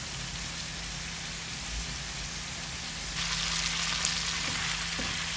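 Potatoes sautéing in a pan for a Bengali prawn curry with spinach, giving a steady, close hiss and sizzle that grows slightly louder partway through, with no talk.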